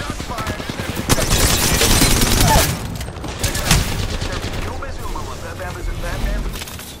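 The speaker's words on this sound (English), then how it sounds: "Shots fired." Rapid automatic gunfire in the Apex Legends battle royale, loud dense bursts of shots with booming impacts, easing off midway before another burst, while an in-game voice and game sounds play alongside.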